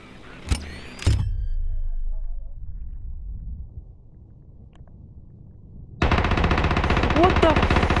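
Unsuppressed gunfire in the video game Call of Duty: Advanced Warfare: two loud sharp shots close together, then a quiet stretch, then a sustained loud burst of firing.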